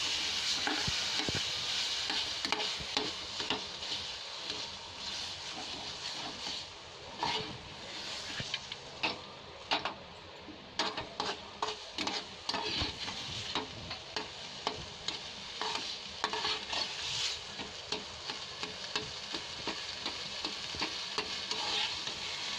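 Mawa mixed with sugar, cashews and almonds fries with a soft, continuous sizzle while a spoon stirs and scrapes the pan in brisk, repeated strokes, close up and without voices.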